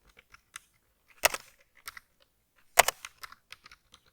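A computer keyboard clatters with sparse, irregular keystrokes while code is typed, with a couple of louder clustered bursts, close and alone in a quiet room.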